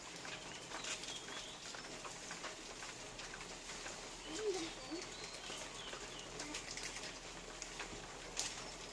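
Light rain drizzling steadily outdoors in a rural setting, a soft continuous patter with birds calling and a dove cooing faintly in the background, no voices.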